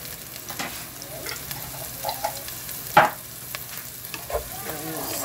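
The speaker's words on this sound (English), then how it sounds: "A little stir. Just want it to be a little brown." Minced garlic and onions sizzle in a pan on the stove while a utensil stirs them now and then, giving soft scrapes and one sharper clack over a constant close frying hiss.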